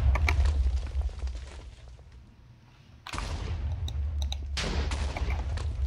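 Gunfire and explosive blasts rumble in a Minecraft Lucky Block Wars match, with heavy booming bursts, a brief lull in the middle, then renewed loud bangs and cracks.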